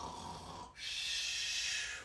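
Snoring imitated by a voice: a drawn-out rasping inhale, a brief pause, then a long airy breathy exhale, close and fairly loud.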